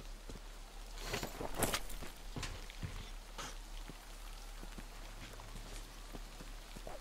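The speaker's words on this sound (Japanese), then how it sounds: "雨降ってきた" Rain falls in the video game Metro Exodus, a steady patter of drops with a few sharper close splashes and taps, heard alone at moderate level.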